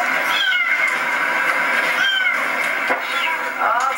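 A kitten trapped in a car engine meows several times, high and plaintive, over a constant droning background noise.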